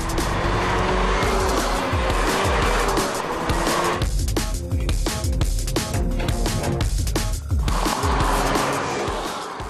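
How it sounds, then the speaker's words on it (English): An Opel Astra OPC with Hyper-Strut front suspension is driven hard through an asphalt slalom course, its engine droning loudly throughout while tires squeal and skid in repeated bursts through the turns. "On the slalom course, the Astra hugs the asphalt, which is great fun"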